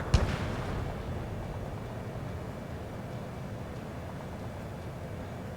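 A single sharp blast of weapons fire from a fighter jet in Ace Combat 7, followed by a steady rumbling roar of the aircraft that continues alone.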